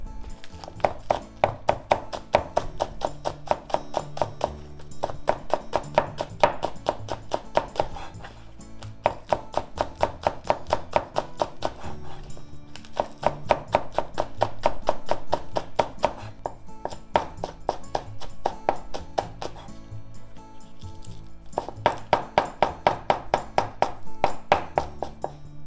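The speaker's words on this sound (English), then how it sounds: "Cut them into half, put them together, and let's just make thin slices." Green onions sliced thinly with a knife on a cutting board, rapid rhythmic taps in repeated bursts with short pauses between runs, close and clear.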